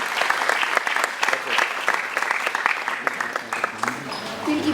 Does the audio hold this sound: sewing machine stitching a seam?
no